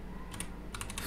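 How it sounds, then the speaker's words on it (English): Keys on a computer keyboard are tapped as a command is typed, giving a few quick, soft clicks in two small clusters within about a second. "So to do that, I would type ollama pull"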